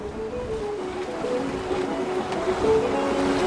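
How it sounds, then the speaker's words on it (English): A sailboat moves at over six knots off Duncansby Head near Orkney, with a steady rush of water and wind along the hull that slowly swells, and a faint tonal creak or hum running through it. "Getting some sparkling sailing now, over 6 knots through the water."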